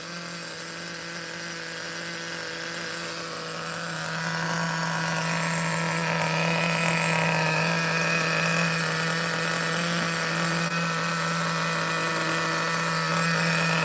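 A Traxxas T-Maxx RC truck with a full cage, its nitro engine idling in a steady, high buzzing drone that holds constant and close throughout.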